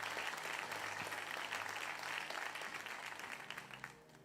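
A church congregation claps together in sustained, dense applause that fills the room steadily and fades slightly near the end, with no voices standing out.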